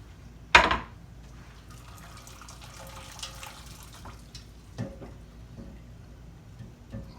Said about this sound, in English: Drain all this stock in here.